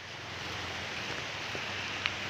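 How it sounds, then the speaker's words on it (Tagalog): Rain falls steadily outdoors on a coastal spearfishing trip in Dumaran, Palawan, a dense even hiss with one brief sharper drop patter near the end, no talk. "Maulan talaga."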